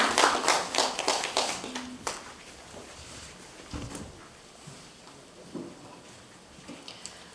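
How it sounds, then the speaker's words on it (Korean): A seminar audience gives a round of applause for the panelists and moderator. Loud, quick clapping in the opening two seconds tapers off into scattered, fading claps with a few stray taps and room noise. "다시 한번 큰 박수"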